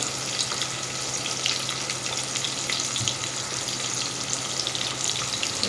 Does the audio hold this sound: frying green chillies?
yes